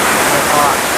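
Waterfall at Curug Paniis in Sumur, Pandeglang: a loud, continuous broadband roar of falling water, close and unbroken throughout.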